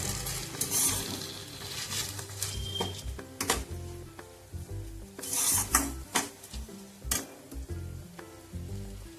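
Soaked, dried rice being stirred and fried over a high gas flame in a pan for peas pulao, with steady sizzling and frequent scraping strokes of a spoon, close and fairly loud, no talking.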